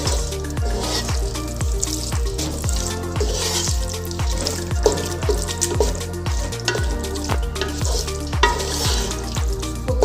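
Beef pieces stirred into biryani masala in a pan, with a steady rhythmic scraping of the spoon and a continuous frying sizzle throughout, close and fairly loud, no talking.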